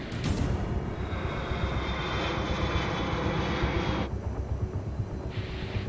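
An aircraft's jet engines drone steadily during descent at about 300 knots, a broad, continuous cabin roar with no voices. The tone shifts slightly partway through.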